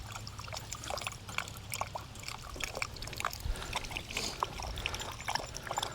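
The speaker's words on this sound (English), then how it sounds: "So it drains out from the top and comes out down the bottom for the doggies" Water trickles steadily from a drinking fountain down into a dog bowl at Fort Laramie, Wyoming. The soft splashing runs unbroken beneath a low hum and light outdoor background noise.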